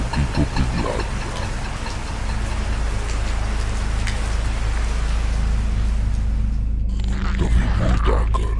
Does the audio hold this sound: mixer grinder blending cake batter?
no